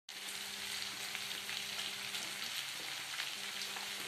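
Bottle gourd frying in a pan, a steady dense sizzle with faint scraping from stirring, continuous and close throughout.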